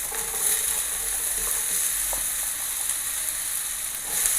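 Red onions hit hot olive oil in a pan, giving a steady close sizzle with faint stirring scrapes throughout, unaccompanied by talk.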